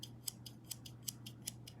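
Small scissors on a pocket EDC multi-tool snip open and shut about eight times in a quick, even rhythm, crisp faint metallic clicks close to the microphone over a low steady hum.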